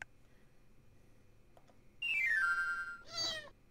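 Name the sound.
cat meowing in SimAnt Amiga video game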